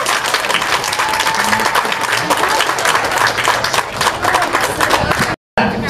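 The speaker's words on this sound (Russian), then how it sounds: "Встречаем аплодисментами!" Festival audience applauding steadily, a dense wash of many hands clapping loudly and continuously with crowd noise, ending abruptly in a brief silence.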